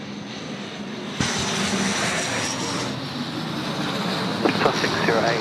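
A fixed-wing airliner landing at Sydney Airport sends out a loud, sustained engine roar that swells abruptly and holds steady, with a radio voice talking faintly beneath it.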